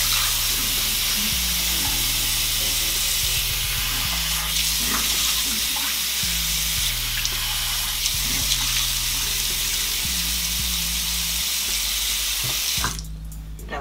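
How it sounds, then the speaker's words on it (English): A high-pressure bathroom tap runs steadily and loudly for the whole stretch while someone rinses their face, with uneven splashing as hands move through the stream, ending in a brief burst of noise. "the water is really loud. The water pressure in here is like really high."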